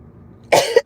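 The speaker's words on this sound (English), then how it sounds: "End up being a cough." A single sharp, close cough bursts out after near silence, ending with a brief second catch.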